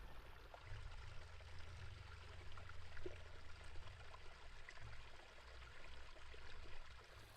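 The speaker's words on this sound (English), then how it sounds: "here's the water fountain" A pond water fountain trickling steadily outdoors, a soft continuous splashing and gurgling flow, faint and even throughout with no voices.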